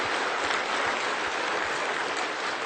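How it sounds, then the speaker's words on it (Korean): Church congregation during a Sunday sermon bursts into applause, a thick, even wash of many hands clapping, loud and sustained with no speech over it. "박수합시다."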